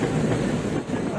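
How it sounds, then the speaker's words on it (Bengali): The 13141 Teesta Torsa Express rolls into platform 4 at Malda station with a steady, close, low rumble of moving coaches, continuous and fairly loud throughout. "এরপর ট্রেন ঢুকলো মালদা স্টেশনের 4 নম্বর প্ল্যাটফর্মে।"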